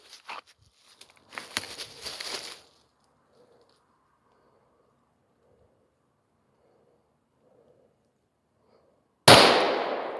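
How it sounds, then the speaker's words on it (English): Handgun fired at a red target on a training range: one sharp, loud shot near the end after quiet, preceded by scattered softer clatter and shuffling. "Yeah, shoot the one on the left."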